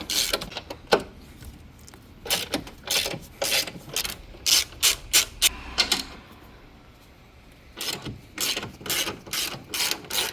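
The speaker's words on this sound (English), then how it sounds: "And lastly, you're going to release these 15mm bolts." A hand ratchet loosens 15mm bolts on the strut tower brace of an S650 Mustang, giving close, sharp bursts of clicking in uneven groups with brief pauses between them.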